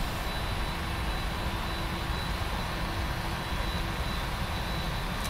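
Lufthansa jet engines roar steadily as the aircraft accelerates down runway 18 on its takeoff roll, a loud, continuous broadband rush with no talk.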